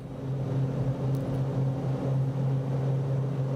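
Ryan Navion B Super piston engine drones steadily in a climb after takeoff in Microsoft Flight Simulator 2024, a loud continuous hum with a strong low tone that holds even throughout, with no talking.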